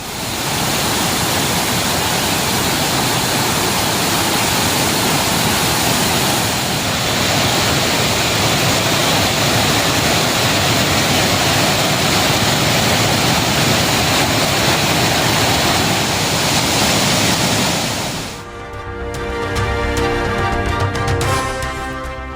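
The Thirparappu waterfall in Kanyakumari district, in flood and spilling past the safety barriers, roars loud and unbroken at close range for most of the stretch before it abruptly gives way to a different, tonal sound near the end.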